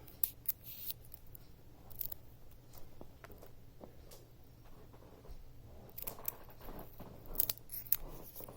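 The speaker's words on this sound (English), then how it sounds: "So just cut those pieces away and just cut those in half." Scissors cutting headphone ear pad material for a JBL Everest 700 ear pad recover: faint, close snips and crisp crunchy cuts in small irregular bursts over a quiet background, busier near the end.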